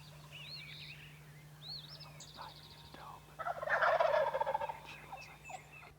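Wild turkeys gobble from their roost on tree limbs in the early morning, several rolling gobbles over a steady chorus of other birds, with one louder, closer gobble bursting out near the middle.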